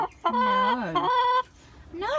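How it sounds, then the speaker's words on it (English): A hen about to lay an egg lets out loud, drawn-out screeching calls, two long harsh cries close by, with a brief pause between them. "Bex, making a screech, it's hurting my ears."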